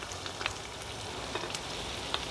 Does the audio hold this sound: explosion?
no